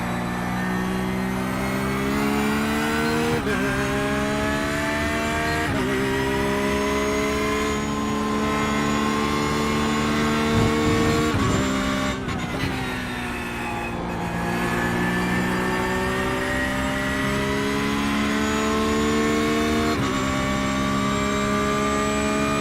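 Race car engine from a NASCAR racing video game at Watkins Glen, revving loud and continuous with rising and falling pitch through gear changes and throttle lifts, no voices.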